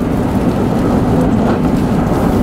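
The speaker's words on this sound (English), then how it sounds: "it's continuing to rain." Rain pours over floodwater during Hurricane Harvey in 2017, a dense, loud, continuous roar of falling water with low rumble and no break.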